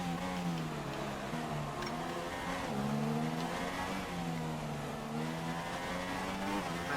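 Formula 1 car in the F1 2016 racing game, its engine holding a steady high whine with rising and falling pitch as it accelerates through a wet race, loud and continuous with no talk.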